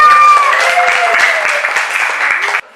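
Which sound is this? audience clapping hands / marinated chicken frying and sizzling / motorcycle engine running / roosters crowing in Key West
audience clapping hands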